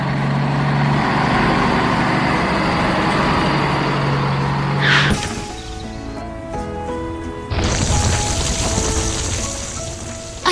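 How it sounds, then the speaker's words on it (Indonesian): A concrete mixer truck drives through a city, a steady broadband rumble of engine and road noise that continues under layered tonal sounds, with no voices. "Melewati bangunan-bangunan kota, truk molen itu terus melaju dengan membawa beban yang sangat penting."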